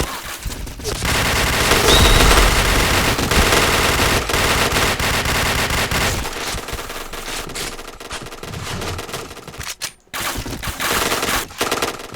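Rapid machine gun fire in the video game Point Blank, loud sustained automatic bursts with a brief pause near the end before shooting resumes.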